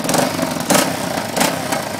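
A dirt motorcycle engine idles close up with a harsh, metallic rattle, a steady broadband churn that surges briefly about twice a second.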